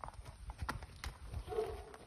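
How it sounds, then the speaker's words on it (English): Hooves of a white walking horse, 15 hands tall, clip-clop in an uneven walking rhythm at close range. The moderately loud hoofbeats go on for about two seconds with no speech over them. "Here's a white one that's a walking horse anybody can ride."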